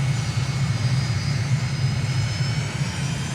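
A steady, loud aircraft engine drone from Microsoft Flight Simulator, holding on the runway in Tunisia with a deep low rumble and faint high whine, continuous and unbroken.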